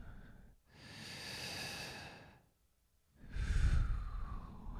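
Two long, deep breaths during a guided relaxation exercise: a slow airy inhale, a brief pause, then a louder, fuller exhale, close and alone with no talking.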